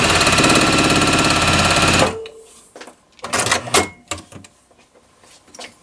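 A sewing machine stitches a log cabin improv quilt block in a loud, fast, steady mechanical whir for about two seconds, then stops, leaving quieter fabric handling and soft knocks.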